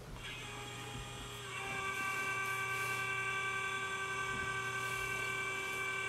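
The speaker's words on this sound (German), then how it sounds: "Und dann wollen wir mal die Lok starten." A PIKO BR 216 model diesel locomotive fitted with an ESU LokSound V5 decoder starts up, its engine sound rising after about a second and a half into a steady, even drone with a high whine running on alone.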